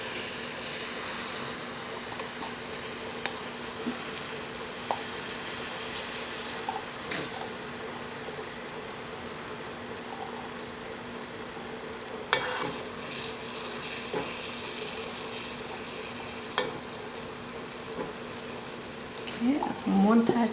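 Sweet milk being poured into a mohanthal (gram-flour fudge) mixture in a pan while it is stirred, giving a steady close sizzle and scraping with a few sharper clinks and a livelier bubbling burst at the end.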